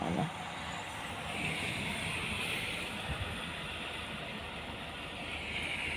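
A vehicle passes by outside on a windy, rainy morning, a steady low rumble of engine and tires blending with broad wind and rain noise, continuous and fairly distant with no talking.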